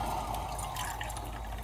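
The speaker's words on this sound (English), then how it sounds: "I'm adding hot water." Hot water pours into a pan of vermicelli kesari, a continuous close gurgling, splashing stream that stays steady throughout.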